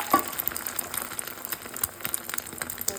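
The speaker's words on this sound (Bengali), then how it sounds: "এইবার অমলেটটা দিয়ে দেবো" Beaten egg for an omelette fries in a pan with a soft, steady crackle and scattered sharp spits and pops, fairly quiet and close, with no talk.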